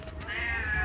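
A domestic cat meows once in a drawn-out, fairly loud call at a village home, standing out clearly with no talk over it.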